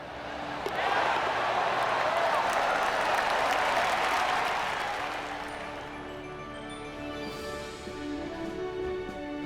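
Crowd applauding a tournament win in the PGA TOUR 2K video game, a dense burst of clapping that swells then fades, giving way to soft music.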